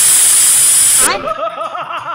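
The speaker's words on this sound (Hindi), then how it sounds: "और कैक्टस कुकर बनकर सिटी मारता है।" A cartoon cactus turned pressure cooker lets out a loud, steady steam hiss for about a second, which then breaks into a run of quick, chirping whistle tones.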